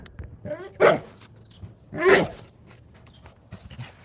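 Two loud, close dog barks about a second apart, each a harsh burst, with quieter yips and whimpers between them and faint movement in the background; no talking.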